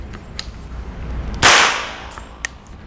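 One sharp UTM training round fired indoors in an enclosed room, a close, loud crack with a brief echoing decay, among faint clicks and handling noises.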